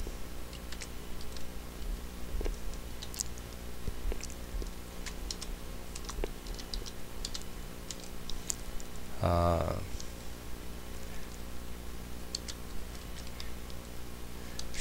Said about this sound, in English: we're going to type in Easy for You Guru